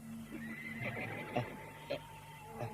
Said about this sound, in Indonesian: Jaka Badak, dengar itu. Kuda siluman itu muncul lagi.